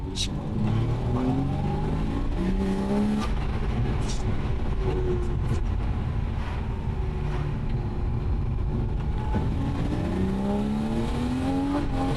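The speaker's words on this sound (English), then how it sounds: "Oh, she wants to wheel spin, like constantly." A BMW E36 engine revs hard with repeated rising and falling pitch sweeps as the wheels spin, heard loud and continuous from inside the car with a window cracked open.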